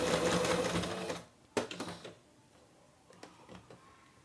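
A sewing machine stitching the decorative border of a cloth dish towel, a loud close whirring run that stops, followed by a few soft clicks and handling knocks.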